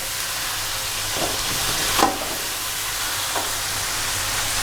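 Mutton karahi cooked with green chillies and black pepper sizzles loudly in a pan, with a few scraping stirs of the spoon breaking through the constant frying hiss, no voices.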